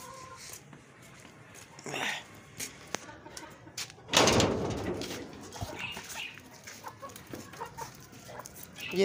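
Light Sussex chickens in a cage cluck and squawk in short scattered calls, with a louder burst of flapping or squawking midway, moderately near against a quiet background.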